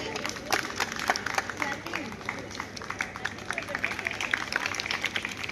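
A crowd applauds at a government senior secondary school prize ceremony for a science model contest, with many sharp overlapping hand claps sustained for several seconds beneath an announcer's amplified voice.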